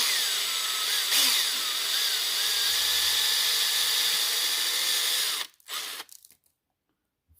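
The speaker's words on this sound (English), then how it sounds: "Just take that and drill that out." A power drill boring out a lure body runs steadily at close range for about five seconds, then cuts off abruptly, leaving a few short bursts and silence.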